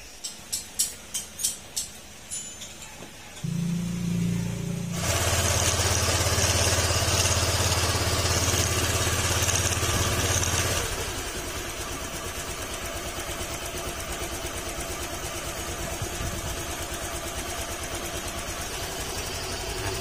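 A Honda Click 125 scooter with a coolant leak and overheating is cranked with several short starter pulses, then fires and idles at a raised, steady warm-up note before settling to a lower, even idle, close and loud.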